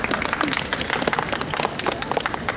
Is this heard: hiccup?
no